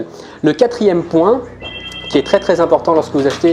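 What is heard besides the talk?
telephone ringing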